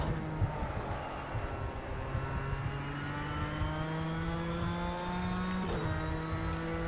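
A race car engine in the video game Project Cars 2 drones steadily and gradually climbs in pitch as it accelerates, with a brief change near the end and no talking.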